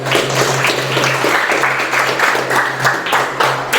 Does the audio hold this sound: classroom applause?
yes